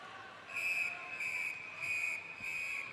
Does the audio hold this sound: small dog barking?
no